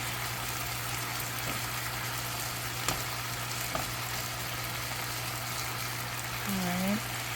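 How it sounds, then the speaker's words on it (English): Pepper steak pieces browning in a frying pan give a steady, even sizzle throughout, with a few faint clinks and a short voice murmur near the end. "You can let it brown a little bit more"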